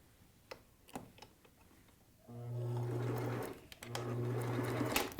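A sewing machine stitches a 3/8 inch seam on a fabric cap, preceded by a few faint ticks and handling knocks, then two steady, fairly close whirring runs separated by a short pause.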